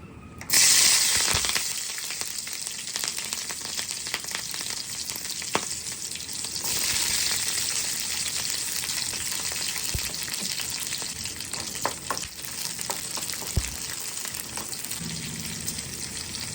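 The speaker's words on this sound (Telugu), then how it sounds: "ఈ మిర్చిస్ మంచిగా ఆయిల్లో మంచిగా డీప్ ఫ్రై అయ్యేంత వరకు ఉంచుకుందాం." Green chillies deep fry in a pan of hot oil with a steady, loud sizzle and bubbling that rushes up at the start, then holds with occasional pops and stirring knocks.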